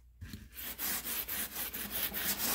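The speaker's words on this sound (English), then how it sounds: "and I have been scrubbing away" A window being scrubbed with a spirinette, a steady rasping back-and-forth rub in a quick regular rhythm, close and fairly loud throughout.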